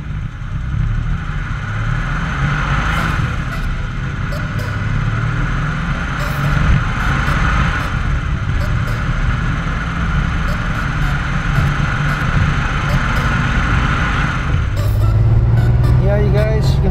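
A Porsche 911 convertible cruises with the top down on a countryside road on Whidbey Island, giving a steady rush of wind and a low engine drone throughout, with a person talking over it.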